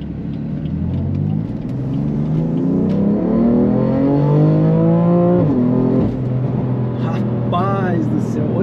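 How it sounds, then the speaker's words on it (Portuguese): A BMW M3 at stage 2 tune with an SSR downpipe accelerates hard, its engine note climbing through rising sweeps before easing off, with a whistle near the end, while people talk inside the car. "olha o barulho desse carro"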